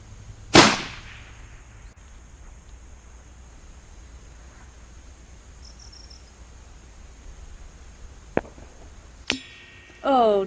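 A 300 RUM long-range rifle cracks once, sharp and loud near the start, then a long quiet stretch of faint outdoor background follows, with small clicks and tones near the end.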